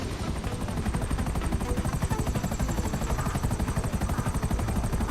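Helicopter in Grand Theft Auto: a steady, loud rotor chop with rapid rhythmic thumping and a constant turbine whine throughout, with no voices.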